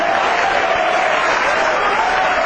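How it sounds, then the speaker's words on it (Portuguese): Dense, continuous applause from a large crowd, steady and loud throughout with no pauses, voices faintly mixed in. "Você pode aplaudir ao Senhor."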